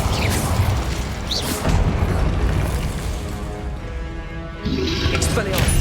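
An Incendio fire spell cast in Hogwarts Legacy, a loud whooshing burst of flame with booming, crackling bursts, set within continuous game sound effects.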